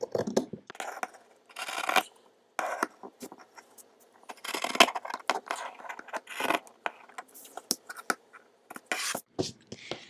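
Scissors snip through shirt fabric, cutting along a sleeve line to make a crop top: a quiet, close series of irregular crisp cuts and rustles separated by short pauses.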